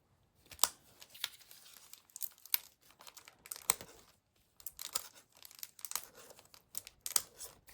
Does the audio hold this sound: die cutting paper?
yes